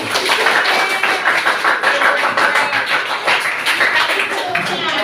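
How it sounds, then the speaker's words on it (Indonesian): Children and a teacher clap hands together in a classroom, a steady, dense patter of clapping with voices mixed in throughout. "Tepuk tangan buat semuanya."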